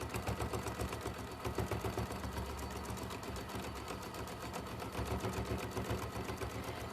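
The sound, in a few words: sewing machine stitching with 50 weight thread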